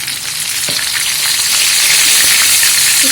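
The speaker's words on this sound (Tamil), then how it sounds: "தீயை ஃபுல்லாக வச்சு கொஞ்சம் ரோஸ்ட் பண்ணுங்க" Chicken 65 pieces frying on full flame, a loud continuous bright sizzle and crackle of hot oil that grows steadily stronger, with no one talking.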